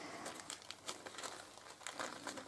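A thin paper napkin, its inner layers removed, is torn into pieces by hand for decoupage, giving soft, close, crinkly rustles and small tearing sounds with no talking.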